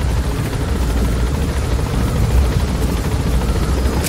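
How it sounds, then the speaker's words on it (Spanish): A helicopter in a video game thunders close by, a loud continuous rotor roar and rumble holding steady with rushing wind noise, no talk over it. "Creo que nomás era el viento del helicóptero."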